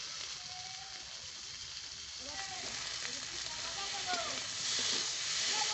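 Oil poured into a pan of fried fish and spices sets off a soft, steady sizzle that swells gently over several seconds, with faint crackles and pops throughout.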